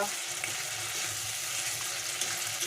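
Ginger-garlic masala for okra do pyaza fries in a pan with a steady, close, continuous sizzle that stays even throughout and has no voices over it.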